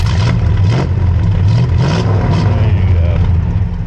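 A 1964 Studebaker Daytona R2 Super Lark V8 revs loudly and steadily close by, its deep exhaust rumble rising and falling while someone speaks briefly over it.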